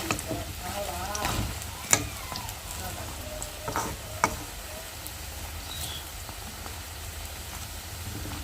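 Lentil-only fritters (bora) frying in oil, giving a steady soft sizzle and crackle with a few sharp pops standing out, close and continuous throughout.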